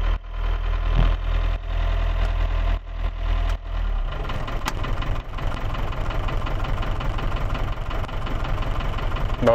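A diesel engine of an Iveco Daily 35-8 van idles after its injectors were cleaned, a loud, close, steady low rumble with a rhythmic knock that settles into a smoother, even idle partway through.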